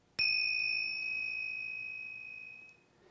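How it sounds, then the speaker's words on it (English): A single bright strike of tingsha bells rings out, leaving a clear, sustained metallic tone that slowly fades over a few seconds. "these are a set of tingsha bells"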